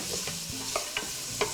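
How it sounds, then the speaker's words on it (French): Onion, garlic, celery and carrot sizzle steadily in a frying pan for a pasta sauce, while a spoon stirs them with a few sharp scraping knocks. The sound is close and has no talk over it. "Mélanger vite vite."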